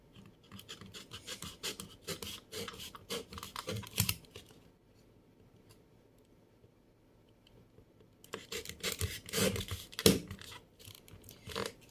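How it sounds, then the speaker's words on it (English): Cutting material by hand for a homemade phone accessory, a close series of rapid snipping and rasping scrapes in two bursts separated by a quieter pause. "So next up for me to cut, I'll cut it all the way down"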